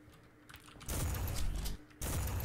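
Rapid gunfire bursts from the video game Ultrakill, two loud dense volleys of clattering shots separated by a brief pause, with no talking.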